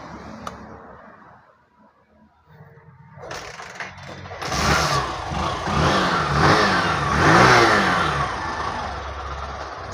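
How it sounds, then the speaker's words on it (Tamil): A Hero BS6 motorcycle engine catches and starts, then revs up and down several times, loud and close, with a rough mechanical rattle underneath. "இப்போ ஈஸியாக ஸ்டார்ட் ஆகிடுச்சு பைக்கு."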